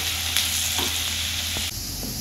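Onions frying in a pan for a dhaba-style Punjabi egg curry, a close, loud, continuous sizzle with a couple of brief stirring knocks and no voices.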